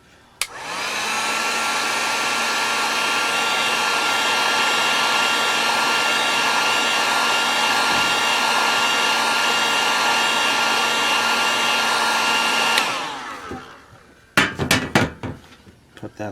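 Heat gun or hair dryer blowing hot air onto a sticker on a new snow brush, a loud steady whirring hum that runs about twelve seconds, winds down, then gives way to a few handling clicks and knocks.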